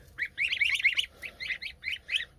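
Young geese give rapid, high chirping peeps in short bursts, close and fairly loud over a quiet low background while they feed.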